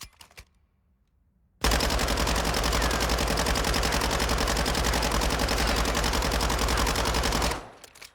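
A submachine gun in Warzone 2 fires one long, loud, continuous burst of rapid shots lasting about six seconds after a quiet start, then cuts off abruptly.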